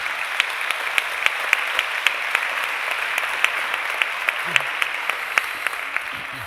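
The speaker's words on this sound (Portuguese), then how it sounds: "uma salva de palmas para vós" Steady applause from an audience at a study-days debate event, continuous even clapping with a few sharper individual claps standing out, sustained at a fairly constant level throughout.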